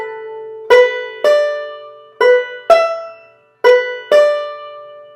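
A banjo phrase picked slowly in 3/4 time, six bright plucked notes in an unhurried, uneven rhythm, each ringing and fading before the next, close and clear with no talking.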